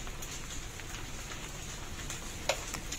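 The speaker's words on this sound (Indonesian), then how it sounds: "Oi, hujan lagi." Steady rain hisses and patters on surfaces in East Flores near the erupting Mount Lewotobi Laki-laki, a constant even wash with one brief sharper tap near the end and no speech.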